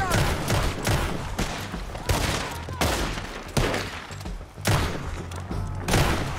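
Gunfire in Red Dead Redemption 2, with repeated loud shots in bursts at irregular intervals, sharp close cracks with booming tails over a game soundscape.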